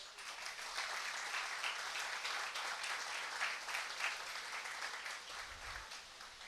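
A congregation at a Sunday church service in Charallave applauds in a steady, even wash of clapping that holds for several seconds at moderate, slightly distant volume, with no talking over it.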